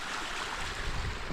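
Flash-flood overflow from a pond pours through a ditch in a steady, dense rush of churning water. It holds a constant level, with slightly stronger surges near the end and no voices.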